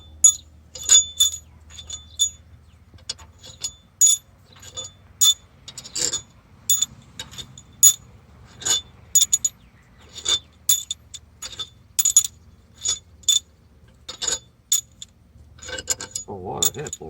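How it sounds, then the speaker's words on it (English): Loosened head bolts pulled from a Ford 6.7 Powerstroke engine during a teardown, a long series of sharp metallic clinks and ratcheting ticks at an uneven rhythm, close and fairly loud, with a low hum underneath. "I've already went through and unloosened all the bolts, so we're gonna pull them out."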